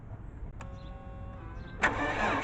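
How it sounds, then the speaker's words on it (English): A white Volvo with noisy lifters and valve clatter starting up: a faint tonal hum, then a burst as the engine catches and settles into a rough, clattering idle, close by. "Yeah, there's a valve clatter."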